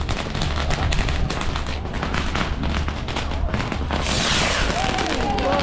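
Firecrackers and fireworks go off in crowded streets during Chinese New Year in Macau, a dense rapid crackle of pops and bangs, then a high whistling rocket near the end.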